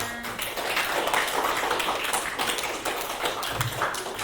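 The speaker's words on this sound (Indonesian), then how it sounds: "Kasih tepuk tangan untuk kelompok 5" A classroom of students claps together, a dense, steady patter of applause lasting the whole stretch without talk.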